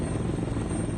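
A rescue helicopter flies over floodwaters, making a steady, dense rotor roar that stays fairly loud for the whole short span.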